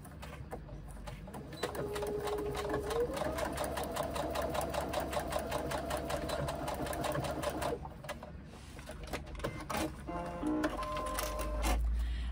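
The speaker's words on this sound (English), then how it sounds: "Come to your machine and do your seam allowance across those short ends." A sewing machine stitches a seam allowance across the short ends of fabric, a fast, steady mechanical whirr with rhythmic needle ticks running for several seconds, then slowing into a few separate stitches.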